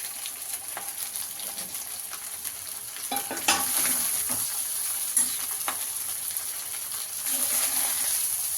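Cooked rice being stirred into frying ingredients in a pan for vangi bath, with scraping stirs and soft sizzling, plus a few sharper clinks of the utensil.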